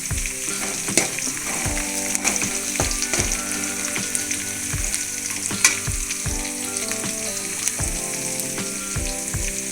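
Garlic fries in hot oil for a Tamil fish curry, a loud, close sizzle dotted with sharp crackles and knocks of a spoon against the pan.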